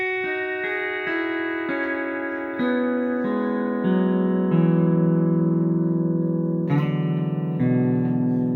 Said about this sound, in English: So in E it sounds like this